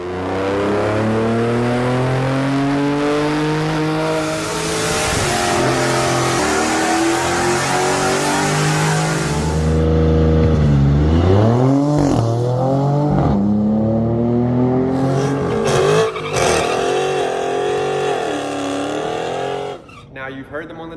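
A 550 hp twin-turbo Dodge Charger revs hard on a dyno, its engine note climbing and falling through repeated loud sweeps, with talk over part of the run.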